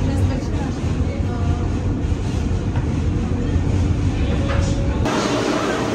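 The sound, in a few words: subway train crossing the Williamsburg Bridge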